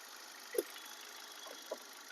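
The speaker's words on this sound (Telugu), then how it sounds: "ఇంజన్ కూడా వెంటనే స్టార్ట్ అయింది కొట్టగానే" A petrol 2011 Hyundai i20 idles with a steady, even engine hum, broken by two brief soft clicks.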